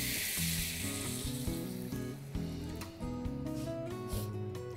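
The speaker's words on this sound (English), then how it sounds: "It is time to add our broth, so let's go ahead and do that." Broth poured into a hot paella pan of cooked-down vegetables, sending up a loud, bright sizzle and bubbling fry that settles into a steadier simmer, with faint stirring and clinks close by.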